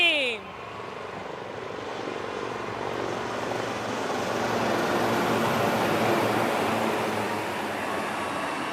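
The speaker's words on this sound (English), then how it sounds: "please welcome the brand ambassadors of the Indian Air Force, the Sarang Helicopter Display Team" Sarang helicopter display team of the Indian Air Force flying in formation at an air force anniversary display, a steady broad rotor and engine roar that swells slightly, with a public address voice over it.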